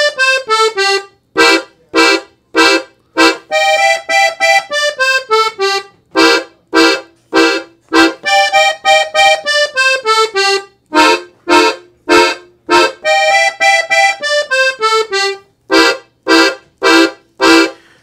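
A piano accordion plays a blues progression in C, with crisp, punchy chords and short riffs in a steady, bouncy rhythm, loud and close with no talking over it.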